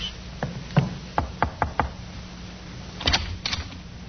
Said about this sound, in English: The sergeant knocked on the door of the second floor front.